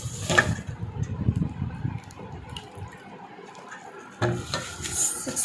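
Ghee is stirred fast by hand in a bowl as part of the hundred-times-washed process, producing continuous rubbing and swishing strokes that pause briefly and then pick up again, close by.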